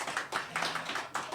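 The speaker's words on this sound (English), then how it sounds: "That didn't, please applaud." Short scattered applause from an audience at a Halloween performance evening, a few seconds of moderate clapping that swells in small bursts and fades.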